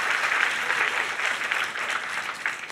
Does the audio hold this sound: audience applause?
yes